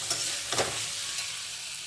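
Spices being fried together with boiled chickpeas and potato for chhola bhuna, a close, steady sizzle broken by a couple of brief stirring scrapes.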